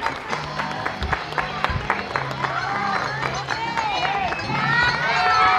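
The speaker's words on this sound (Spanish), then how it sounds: "Fuertes aplausos para los niños de tercer año." Audience clapping for third-year schoolchildren after their Mother's Day dance performance, steady applause mixed with crowd noise and children's voices, swelling louder toward the end.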